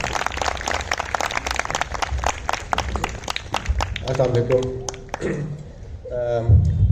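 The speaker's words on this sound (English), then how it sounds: "Please give him a big round of applause." An audience at a school's annual prize distribution ceremony claps in a fairly steady patter for about four seconds, then the clapping stops and a voice talks.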